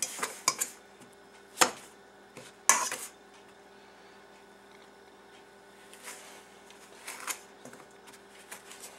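Cold butter being cut into a crumb topping for a pear pie, heard as a few sharp utensil scrapes and clinks against a bowl, spaced apart, with softer scraping and light clatter near the end.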